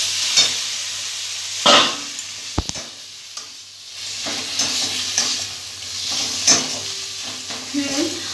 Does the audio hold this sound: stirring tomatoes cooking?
yes